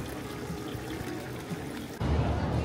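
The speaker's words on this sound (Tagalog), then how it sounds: "tubig refilling yata." Water refilling at a public fountain in a city setting: a faint, steady trickle and pour that swells into a fuller, louder splash of filling liquid near the end.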